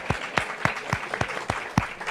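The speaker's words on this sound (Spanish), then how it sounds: "Un aplauso." Sparse, evenly spaced claps from a small audience, roughly three per second, fairly quiet and close with little else around them.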